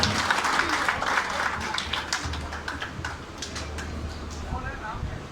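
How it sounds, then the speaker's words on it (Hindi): Audience applause at a pigeon racing club's combined race prize ceremony, a steady wash of clapping running for several seconds at moderate loudness over a low background hum. "मैं चाहूंगा कि सरगोदा के लोग अपने लिए भरपूर तालियां बजाएं जी"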